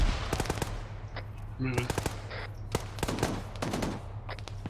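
Heavy .50 cal machine gun fire in the military video game ArmA 3, loud sharp bursts and single reports rolling across the whole stretch, with a brief radio-style voice cutting in over a steady low hum.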